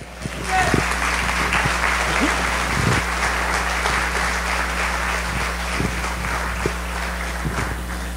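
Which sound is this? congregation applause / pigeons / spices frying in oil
congregation applause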